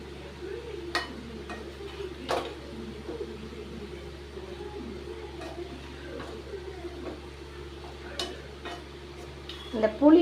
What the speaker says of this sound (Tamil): இதை போட்டு ஃபுல்லாக இப்போ கிளறி விட்டுக்கலாம்